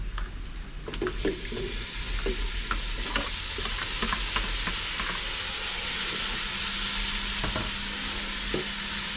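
Beef pieces dropped into a hot pan sizzle steadily with a continuous hiss, punctuated by occasional clinks and stirring scrapes in a home kitchen.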